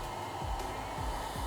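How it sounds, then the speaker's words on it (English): A 12-volt electric pump steadily inflates a Suzumar MX-250 inflatable boat, giving a loud, continuous motor whine and airflow that holds even throughout, with no talk. "I chose to go out and purchase a 12-volt pump."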